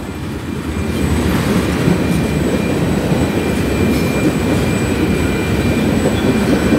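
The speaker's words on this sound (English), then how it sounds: "there's literally a train." A loud, steady rumble of a CP freight train led by an AC4400CW locomotive rolling past close by, with a continuous low roar and faint high whines above it.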